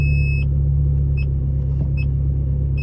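Ferrari 360 engine idling with reverse gear engaged, a steady low rumbling hum, with short electronic beeps repeating roughly every three quarters of a second over it.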